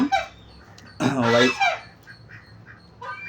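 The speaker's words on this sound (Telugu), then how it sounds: "బాతులు పట్టించుకోకండి" A nasal, honking duck call rings out once at close range, with a few softer calls before and after in a quiet setting.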